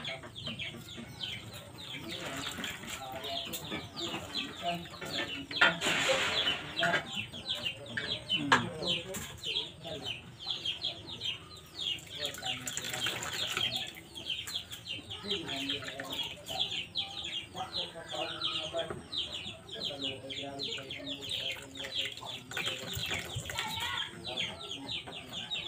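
Chickens clucking around a rural home in the Agusan Marsh, a steady stream of busy clucks and chatter mixed with other birds and background noise, continuing throughout with occasional louder bursts.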